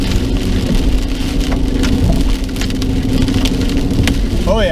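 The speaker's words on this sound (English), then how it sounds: "That's some big hail." Large hail pounding down during a tornado storm, a dense, loud, continuous clatter of stones striking the ground and a vehicle, steady throughout with no pauses, close and alone with no talk.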